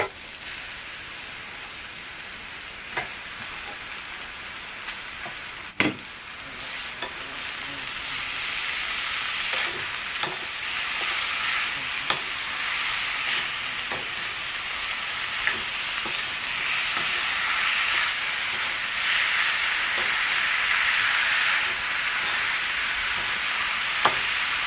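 Mushrooms fry in a spicy masala gravy in a kadai, a steady loud sizzle with occasional clacks and scrapes of a spatula as they are stirred.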